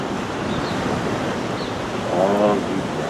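Ocean waves washing in a steady, soft surge with wind noise, swelling slightly near the end, during a yoga session.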